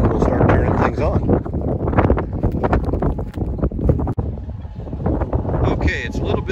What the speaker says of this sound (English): it's a little bit windy. Sorry about that with the video.